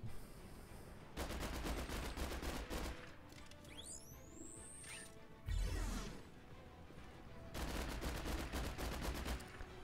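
Rapid bursts of automatic gunfire come from a jetpack attack in the mobile game Marvel Strike Force, with two long rattling volleys separated by whooshing effects and a short impact burst, all synthetic game sound with no voices.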